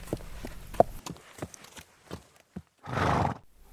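Horse neighing up close, with a long, loud whinny near the end, preceded by scattered hoof clip-clops and snorts in a quiet setting.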